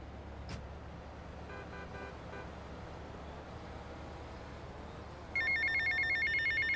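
A telephone rings in GTA Vice City Definitive Edition, its repeating electronic trill starting late and looping steadily over a faint background hum of game ambience after a brief earlier tone.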